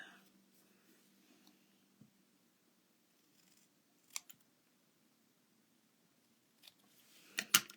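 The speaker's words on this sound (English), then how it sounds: "I'm going to just cut a little bit off each end" Scissors snip off the ends of a decorative paper strip during a stamping card craft, with a few short crisp clicks near the middle and a louder pair of snips at the end over a quiet background.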